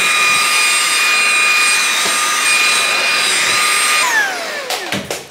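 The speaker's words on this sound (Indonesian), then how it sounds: "Senang kan ada vacuum ni." A household vacuum cleaner runs loud and close with a steady whining roar, then spins down in a falling whine near the end as it is switched off, with a few clunks after.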